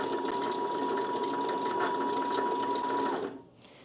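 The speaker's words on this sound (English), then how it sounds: "when you press your foot pedal, that's what's going to start wrapping your bobbin" A sewing machine winds a bobbin, driven slowly by its foot pedal: a steady whirring mechanical hum with a fine ratcheting texture, running close and alone for about three seconds before cutting off.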